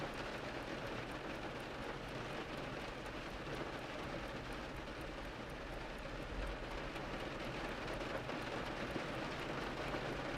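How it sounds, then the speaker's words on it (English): Steady rain pours down outdoors, a dense even wash of sound with no break. It carries on alone and is heard from indoors. "the rain is rushing down outside"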